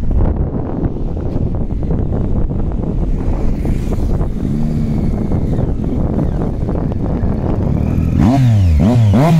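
A Triumph Street Triple motorcycle rides past with a loud engine roar buried under heavy wind buffeting on the microphone. Toward the end the engine pitch rises and falls in quick revving sweeps.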